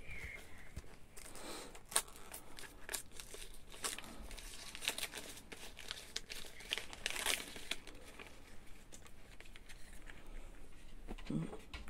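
An advent calendar package being opened, with continuous close paper crinkling and rustling, occasional sharper tearing bursts and brief quiet talk.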